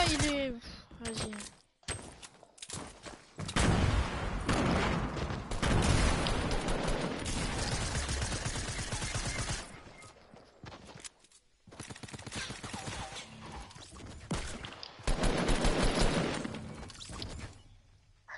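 Pistol and carbine gunfire in a first-person shooter video game, bursts of rapid shots and clattering impacts in several volleys separated by short gaps, with a player's voice talking over parts of it.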